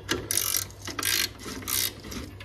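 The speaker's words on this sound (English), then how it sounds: "13mm nut on top, you get a 13mm spanner." A 13mm spanner undoes a nut on top of a Worcester Greenstar Junior gas boiler during a service, giving several short bursts of close metallic ratcheting clicks in quick succession.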